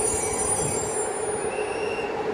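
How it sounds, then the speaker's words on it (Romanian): Steady railway rumble at Gara de Nord station as a locomotive couples onto a train just arrived from Constanța, with faint high wheel or brake squeal lines above a continuous low roar. "tocmai ce a sosit de la Constanța acesta și se atașează de o locomotiva"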